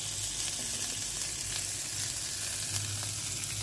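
Mustard spice paste fries in a pan while shorshe ilish (hilsa in mustard) cooks. A dense, steady sizzle crackles close and continuous, with faint stirring scrapes underneath.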